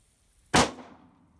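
A single sharp gunshot from a modern 9mm load fired through a German WW2 officer's pistol cracks out close and loud, then decays quickly into quiet.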